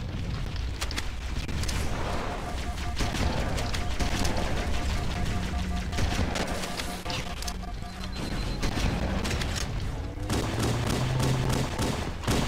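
Rapid video-game gunfire crackles in dense bursts throughout, with booming shots mixed in a continuous loud firefight.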